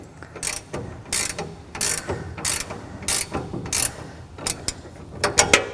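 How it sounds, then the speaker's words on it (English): Close, loud clicking of a ratcheting wrench tightening a nut, with 17mm and 14mm wrenches used on a dust collector assembly; repeated bursts of rapid ratchet clicks come in uneven strokes with no talking. "Now tighten down this nut, but again, not too tight."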